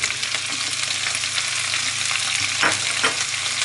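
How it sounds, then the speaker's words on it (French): Green beans and diced water chestnuts stir-frying in a hot pan, a steady close sizzle with scraping stirs and tossing clatter around the middle, no voices. "On fait monter un peu notre feu et on continue de faire sauter"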